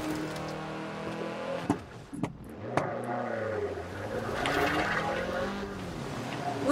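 A car in the Forza Horizon 4 racing game drives at night, its engine droning with rising and falling pitch as it shifts, broken by a couple of sharp impact clicks and a short tire-squeal moment.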